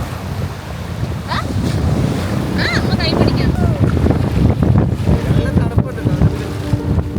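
Sea waves wash in continuously under heavy wind buffeting the microphone at a beach in Cornwall, with faint voices now and then.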